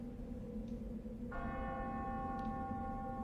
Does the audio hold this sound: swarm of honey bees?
no